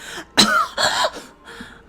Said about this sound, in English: Raw hacking coughs tore their way out of my throat.